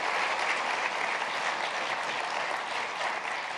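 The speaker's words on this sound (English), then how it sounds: "Let's give them a round of applause as well." An audience applauds steadily for the foundations at a First Lady's event on college opportunity, a dense, even wash of clapping that holds without pause.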